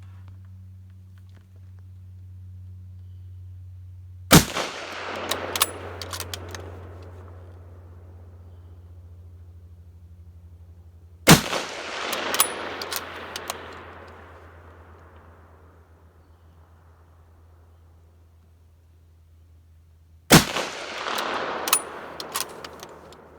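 Three sharp, loud rifle shots from a K98K or M1917 fired at a 100-yard target, spaced several seconds apart, each followed by a decaying echo over a low background hum.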